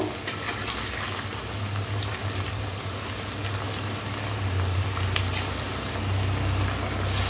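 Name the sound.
potato french fries deep-frying in oil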